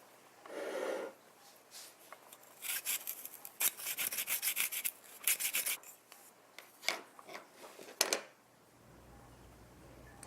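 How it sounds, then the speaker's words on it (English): Fresh ginger grated for green tea, heard as a run of close, quiet rasping scrapes in short rhythmic bursts with brief pauses between strokes, no talking. "And then I like to add some ginger. You can just slice it and throw it in the tea, or you can try to grate it so it's smaller."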